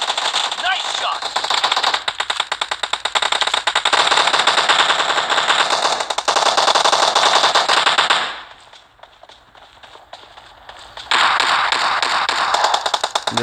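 Rapid automatic gunfire from an uzi and a shotgun rattles in a video game, long dense bursts with a brief lull before firing resumes, loud and close.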